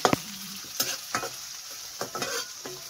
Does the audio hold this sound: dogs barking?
no